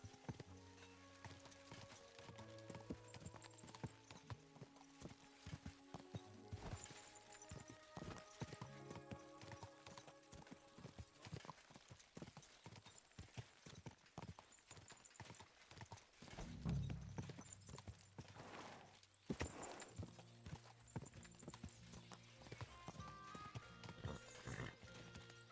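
A horse gallops in the video game Kingdom Come Deliverance 2, its rapid hoofbeats clip-clopping steadily at low volume with an occasional whinny amid game background sounds.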